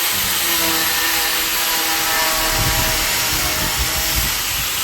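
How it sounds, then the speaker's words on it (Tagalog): An angle grinder fitted with a metal-cutting disc slices through a WPC fluted panel, a loud continuous high-pitched whine with gritty rasping that holds steady for the whole stretch. "Ang gagamitin po ay grinder. May paling na pang bakal."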